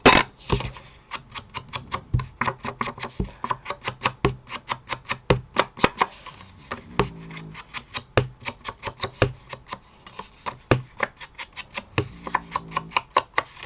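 Ink dauber patted repeatedly along the edges of a handmade paper card, giving a fast run of close, crisp dabbing taps that continues steadily throughout with no talking.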